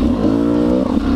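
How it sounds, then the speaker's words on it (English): A GasGas EC 300E two-stroke dirt bike fitted with an FMF exhaust revs in a steady, loud, close drone, holding a buzzing pitch for about a second before easing slightly. "The FMF exhaust sounds really good and dampens the typical two-stroke ring-a-ding-a-ding"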